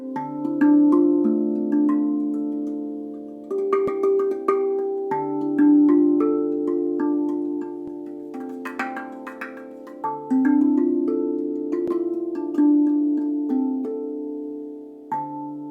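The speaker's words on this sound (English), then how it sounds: "The great thing about the RAV drum is that the sustain of the note is very, very long" A RAV drum tuned to D Celtic minor plays a slow melody of ringing, long-sustaining tonal notes that overlap and hum softly, close and alone with no speech.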